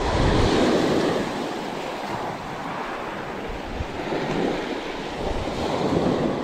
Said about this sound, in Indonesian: Anginnya cukup lumayan ke arah dari arah kiri.